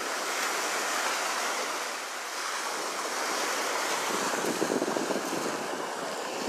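Ocean surf rolling in at Virginia Beach, a loud continuous wash of breaking waves close by with wind buffeting the microphone, swelling slightly toward the end.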